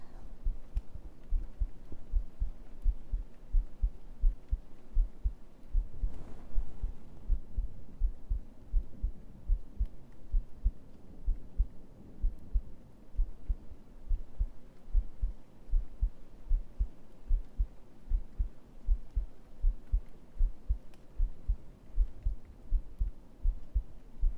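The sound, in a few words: heartbeat sounds in an ASMR stream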